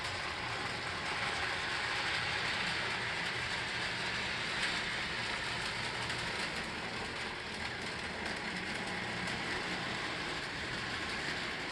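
A model train running around its track under PLC throttle control, a soft steady rolling whir with faint rhythmic clicking over the rail joints, continuous and fairly quiet, no voices.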